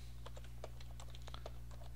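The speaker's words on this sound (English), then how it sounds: "Now I can come down here, and I can actually start typing" Quick, irregular clicks of keys being tapped on a computer keyboard, fairly quiet and close, with a low steady hum underneath.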